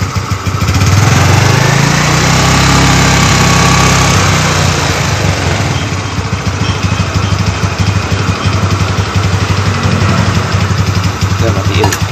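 Car engine running steadily while the radiator is flushed with plain water, a loud continuous mechanical hum close by, with a rougher burst near the start that settles into an even idle.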